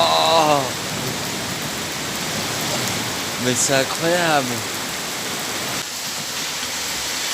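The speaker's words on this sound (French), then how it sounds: "Il y a de l'orage, ça s'est calmé un peu" Heavy thunderstorm rain pours down in a steady, dense hiss that runs throughout. A person speaks briefly over it with an excited, rising voice.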